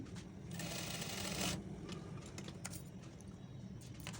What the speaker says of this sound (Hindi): फिर आप एक किनारे की सिलाई लगा लें